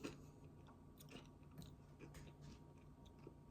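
Quiet, close chewing of something crunchy, with soft repeated crunches and mouth clicks over a low steady hum.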